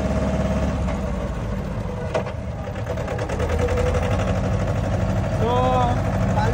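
A tractor pulling a water trolley on its first trip chugs along at a steady mid-pitched idle-to-pulling drone, close and continuous, with people talking over the engine noise.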